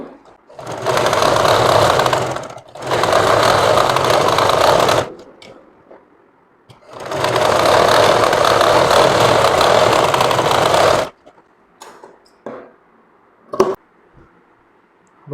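A sewing machine stitches a kameez in three loud, steady bursts of whirring, separated by short pauses, followed by a few scattered clicks and handling sounds.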